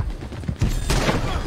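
Gunfire in Red Dead Redemption 2, a short burst of sharp cracks and thumps close together within about a second and a half, fairly loud with no talk.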